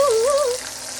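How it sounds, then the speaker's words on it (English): Butter and fresh sage leaves sizzle in a skillet, a brief crackling fry with a short high whistle-like tone at the start, fading slightly toward the end. "go ahead and add butter back into the skillet"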